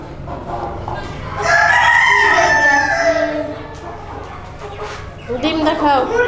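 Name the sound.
chickens squawking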